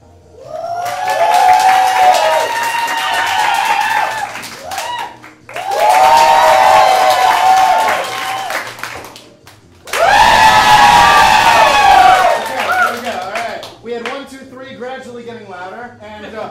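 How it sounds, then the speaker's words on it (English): An audience at a Whose Line–style improv comedy showcase erupts in three loud bursts of clapping, screaming and cheering with foot stomping, each swell lasting several seconds before dropping off, followed by a quieter tail of scattered shouts. "clap and applaud and scream and stomp your feet for the person who you enjoyed the most tonight"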